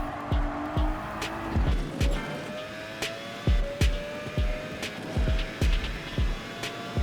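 Nissan GT-R engine in Gran Turismo 7 at the Nurburgring, a steady high engine note rising and falling with throttle lifts, with repeated sharp thumps over curbs and bumps, loud and close throughout with no talking.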